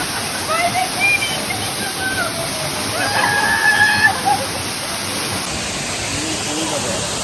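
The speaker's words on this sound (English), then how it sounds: "Waterfall right now." A waterfall in St Lucia rushes as steady broadband noise throughout, close and continuous, with faint voices and other outdoor sounds scattered over it.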